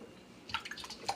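Water splashes and drips over pork spare ribs being rinsed for Jamaican-style seasoning before grilling, with a brief burst of close, wet trickling and dripping after a quiet start.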